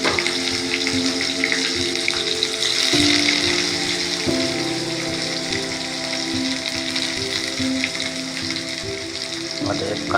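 Onions fry in a pan with an even, continuous sizzle and hiss after mustard seeds have been tempered, the bubbling texture steady throughout with occasional faint clinks, no talking.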